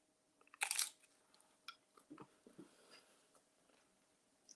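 Crunchy sugar-free, dairy-free, gluten-free dessert being bitten and chewed up close: one loud crisp bite followed by a series of smaller irregular crunches and chewing clicks in a quiet room.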